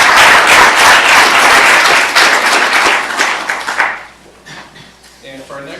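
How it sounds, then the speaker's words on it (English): An audience at a tech meetup gives a round of applause after a presentation; loud, dense clapping fills the first four seconds, then fades out into scattered claps and quiet room sound. "let's get down to round of applause"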